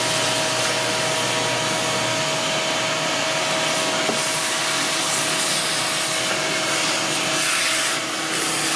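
A Harley Panhead or Shovelhead rocker arm is sanded to strip rust spots, giving a loud, continuous abrasive hiss and whir that runs unbroken and close for the whole stretch, with no talking.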